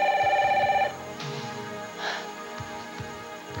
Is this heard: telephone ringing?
yes